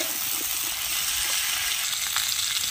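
Vegetables dropped into a hot wok of oil in a home kitchen after fish was fried, giving a loud, dense, continuous hiss and sizzle close up.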